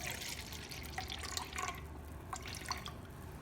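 Vinegar trickles and drips into a kitchen garbage disposal, a faint, steady splashing with small scattered drops and no voices.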